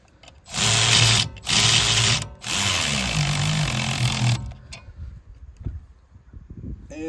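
A power tool buzzes in three close, loud bursts, two short ones and then a longer run, as it works bolts loose on a brush hog clutch, followed by quieter clinks and handling noise.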